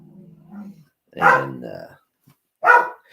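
Two sharp dog barks a second or so apart, close and fairly loud, preceded by a low whine.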